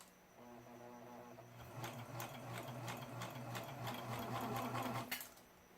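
Serger sewing machine beading a rolled hem, running in a steady fast mechanical whir with rapid stitching rattle, starting after a brief pause and stopping near the end, close and alone.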